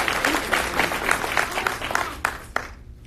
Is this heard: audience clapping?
yes